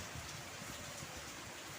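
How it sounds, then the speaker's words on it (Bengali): Heavy rain pours steadily on a rainy day with water pooling on the road outside, a soft, even wash of hiss heard from indoors with no pauses and no voices. "প্রচণ্ড বৃষ্টি হচ্ছে"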